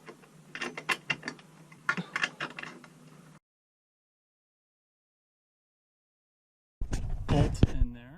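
A nut is tightened onto a bolt through a wooden roof rafter, giving close clicking, ratcheting turns in quick irregular bursts, then a long silence before a final louder flurry of metallic clicks and rasping.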